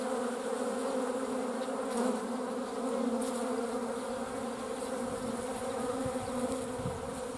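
Honeybees buzz densely around a troubled hive, a steady layered drone of many wings close by, with individual bees passing louder near the microphone now and then.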